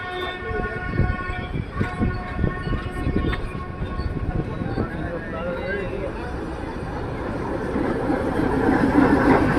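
A YDM 4 diesel locomotive hauling a mountain train from Ooty to Coonoor, with rumbling wheels and clattering carriages, a brief horn-like tone early on, and people talking aboard as the rolling noise builds toward the end.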